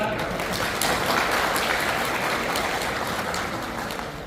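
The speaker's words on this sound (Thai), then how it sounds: "ขอเสียงปรบมือดังๆนะครับ" Loud, continuous applause from the audience at a farmers' council meeting in northeastern Thailand, a dense steady wash of clapping that fades slightly toward the end.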